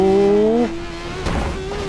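A 1980s Formula 1 race car in the Formula 1 2013 video game at Montreal, its engine whining steadily before a sudden crunching impact into a barrier, followed by quieter engine drone.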